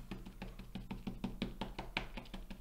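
An ink pad tapped repeatedly across an embossing folder, giving a quick, steady series of soft close dabs at an even rhythm.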